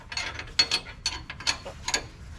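A wrench clicks in short uneven bursts while the panhard bar bolt on a 5th generation Toyota 4Runner is torqued, a few sharp ratchet ticks close by, fairly quiet.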